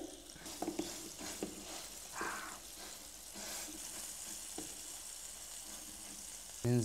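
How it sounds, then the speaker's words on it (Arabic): A ground beef patty sears in hot oil in a pan, giving a soft, continuous frying hiss with a few brief scrapes and clatters, ending in a short louder knock. "كده الزيت سخن معانا. ننزل بقى بكرة اللحمه سريعا بقى كده، نبططها باي طريقه اي وسيله."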